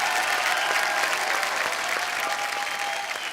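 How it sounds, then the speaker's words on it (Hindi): A television comedy show studio audience applauds loudly and steadily, a dense wash of clapping from many hands that carries on throughout. "एक बार जोरदार तालियां"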